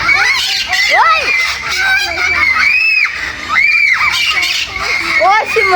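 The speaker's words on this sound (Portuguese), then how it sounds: "Arara, loro!" A macaw parrot squawks loudly over and over in a park wood, harsh rising and falling calls repeating through the whole stretch, with people talking nearby.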